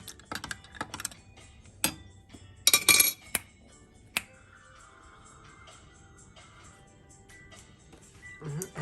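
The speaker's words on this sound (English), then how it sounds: "Give that a stir." A spoon stirs a hot rum toddy topped with shaved nutmeg in a glass, giving sharp scattered clinks and taps, with a brief bright rattle midway, then quieter handling noise and no talking.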